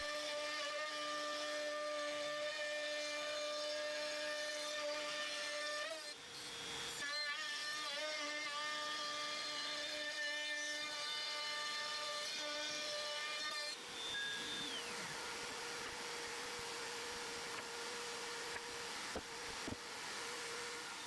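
Steady machine whine with high tonal harmonics, a PROVerXL 4030S CNC router spindle cutting a hardwood glue-up continuously, with brief changes in pitch as the cut shifts.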